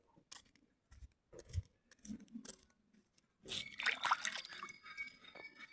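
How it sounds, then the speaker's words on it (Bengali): A mango is rinsed by hand under running water, first with scattered handling thumps and rubbing, then a steadier splashing rush, close and fairly quiet. "আমটা এখন ধুয়ে নিই"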